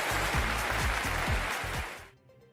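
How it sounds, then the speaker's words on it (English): A short applause jingle for the EV Café plays, with steady crowd clapping over a rhythmic musical beat, then cuts off abruptly into near silence. "The commercial clap from the EV Café. Innovation applauded."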